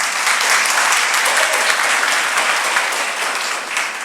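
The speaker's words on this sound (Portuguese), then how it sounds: "Uma salva de palmas para ele." A church congregation claps in sustained, dense applause that holds steady and loud for the whole stretch, with no voice above it.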